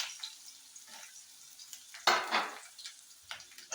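Curry leaves, onion and green chilli frying in a pan for masala sweet corn, heard as quiet intermittent sizzling bursts with a louder crackling flare midway and light scraping of a utensil.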